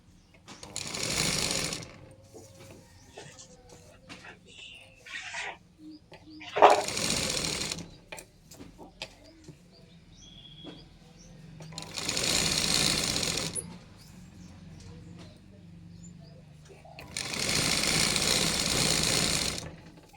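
Sewing machine stitching piping onto the lining of a blouse, heard in three or four loud, steady whirring bursts of a few seconds each, separated by quieter pauses with faint handling noise.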